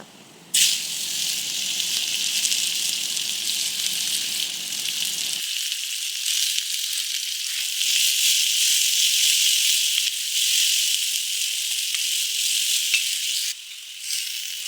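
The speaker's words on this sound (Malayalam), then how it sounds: "ചട്ടി ചൂടാകുമ്പോൾ എണ്ണയൊഴിച്ച് കടുക് പൊട്ടിക്കുക ഇതിലേക്ക് ആവശ്യത്തിന് ചെറുള്ളി ചേർത്ത് മൂപ്പിക്കുക" Mustard seeds spluttering and shallots frying in hot oil in a pan for agathi leaf thoran make a loud, continuous sizzle with scattered pops and crackles. No voices are heard over it.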